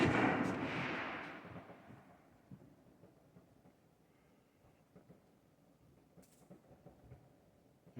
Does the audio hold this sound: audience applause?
no